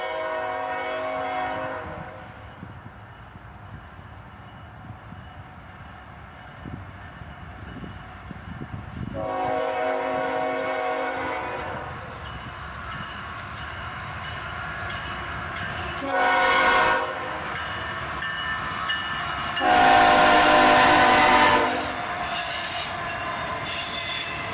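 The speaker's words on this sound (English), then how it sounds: "An ES44 ACH and an ET44AH lead a southbound intermodal train here." CSX southbound intermodal train led by ES44AH and ET44AH locomotives, with a rumbling engine and wheel noise throughout and several loud horn blasts: long ones at the start and middle, and a louder, harsher burst near the end.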